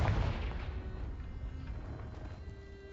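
A Confringo spell blast in the Hogwarts video game lands as a soft, low boom at the start and fades into a dull, rumbling tail, fairly quiet and with no voice.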